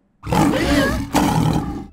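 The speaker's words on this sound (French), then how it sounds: "Non, c'est un lion," A lion roars, played back from a video: one loud, close, rumbling roar that swells, breaks off briefly, then resumes and fades, with no voices.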